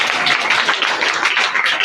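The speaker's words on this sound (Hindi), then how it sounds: "इसलिए ताली बजा दो" Students clapping together in a classroom at a coaching centre, a dense, steady patter of many hands lasting a couple of seconds, close and loud with no talking over it.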